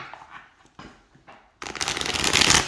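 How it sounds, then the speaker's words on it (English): A deck of artisan tarot cards with fine card stock is riffle shuffled: a few soft taps and flicks, then a loud, close, continuous rippling burst as the cards interleave. "Yeah, nice shuffle."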